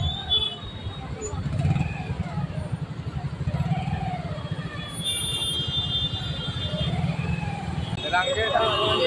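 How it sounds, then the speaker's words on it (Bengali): Road traffic jammed near Rangirkhari in Silchar: a steady loud rumble of idling and crawling vehicles with engine drone, voices and crowd babble throughout, and a high horn-like tone in the later seconds. "কি বিশাল ভয়ঙ্কর ট্রাফিক জ্যাম"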